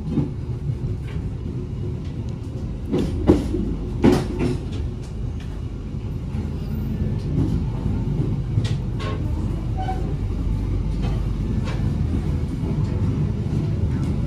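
Train pulling into Cirebon station: a steady loud rumble of rolling carriages with a cluster of clacks and knocks early on, heard from on board without talk.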